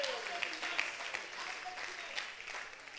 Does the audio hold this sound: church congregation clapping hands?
yes